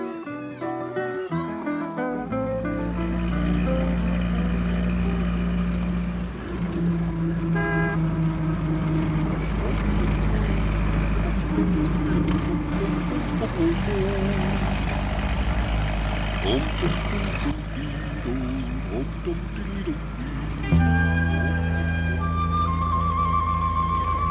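A tractor engine chugs and idles while towing a stuck postman's van out of mud in a 1990 children's animated story, its low drone running under a musical score with tonal notes.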